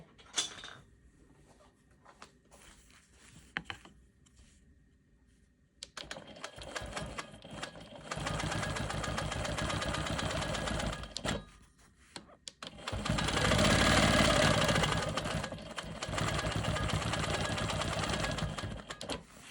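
A quilting sewing machine stitching quilt sashing with ruler work, running in bursts of rapid, steady stitching broken by quiet pauses while the quilt is repositioned, loudest in the middle-late stretch.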